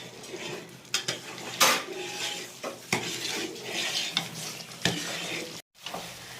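A spoon stirs ada payasam in a pot, scraping and clinking against the metal in irregular strokes over a faint bubbling sizzle, close and fairly quiet.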